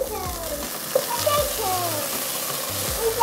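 Potatoes frying in a hot pan, a steady sizzle heard close, with a person talking over it throughout.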